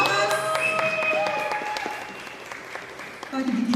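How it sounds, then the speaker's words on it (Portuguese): An audience applauds a guest being introduced at a cultural event talk, a steady clapping patter under tonal music and a nearby voice that breaks in at the end. "Alexandre Prados, salva de palmas."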